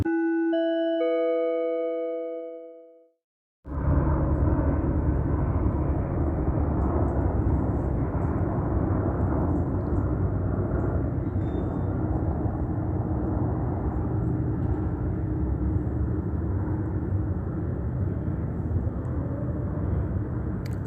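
A steady broadband engine roar from an airplane overhead drones on unbroken for many seconds after a short ding-dong chime and a moment of silence, with no voices.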